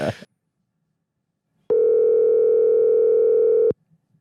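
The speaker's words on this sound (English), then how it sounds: "How about we should call Cobos?" A steady telephone dial tone, sustained for about two seconds, loud and alone after a brief burst of noise at the start.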